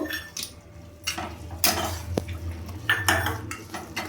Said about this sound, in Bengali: বড়িগুলো দিয়ে আমি ভালোভাবে নাড়িয়ে নেব।